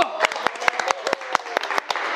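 A small group clapping during a car-subscriber event livestream, loose separate claps close to the microphone over a faint background tone, without any speech.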